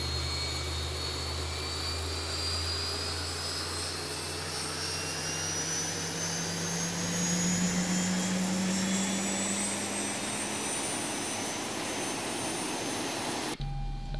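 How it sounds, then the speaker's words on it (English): A Boeing 737 jet engine in the X-Plane 11 flight simulator (ZIBO mod) spools up, a steady roaring whine with tones that slowly rise in pitch, loud and continuous throughout with no talking. "So we can hear the engine starting."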